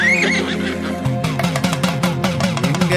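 A white horse gives a high neigh at the start of a Tamil devotional song to Karuppasamy, then thumping drums and instruments take over.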